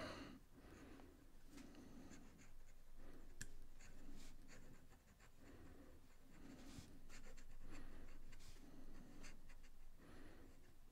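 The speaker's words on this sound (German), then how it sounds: "Ich versuche mal verkehrt herum zu schreiben." Scratchy nib strokes from a Leonardo Momento Zero Lavanda fountain pen, held upside down and writing on paper, come up close in quick irregular bursts with brief pauses between words.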